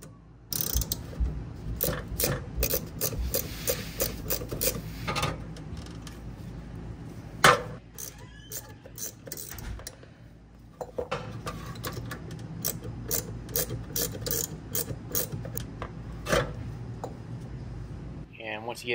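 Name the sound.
wrench turning nut on VW Rabbit GTI shift rod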